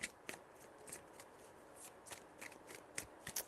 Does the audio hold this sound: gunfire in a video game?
no